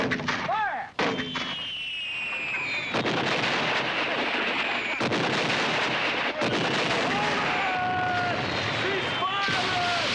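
Heavy artillery fire in a 1974 film battle scene: loud booming gun blasts and dense rumbling gunfire fill the scene, with shouted voices over the din.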